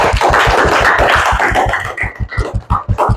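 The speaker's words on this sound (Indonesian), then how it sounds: "Tepuk tangan dulu untuk kelompok 1." An elementary school class applauds a student group with quick, rhythmic claps beating in near unison, close and loud at first and then thinning into looser, scattered claps.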